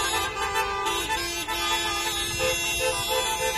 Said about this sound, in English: in order to get service, you have to honk your horn